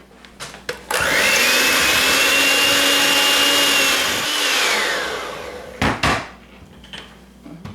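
An electric mixer whirs loudly for several seconds, beating frosting with cream and vanilla extract in a bowl, preceded and followed by a few clinks and knocks.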